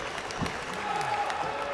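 A wrestling arena crowd at ROH Best in the World 2021, back after 17 months without fans, claps and cheers in a broad, steady roar while a commentator's voice rises briefly over it.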